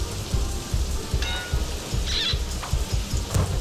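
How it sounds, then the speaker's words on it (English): Steady rain patters on surfaces nearby, a dense continuous hiss with scattered heavier drops, fairly loud and with no voices. "It starts to rain."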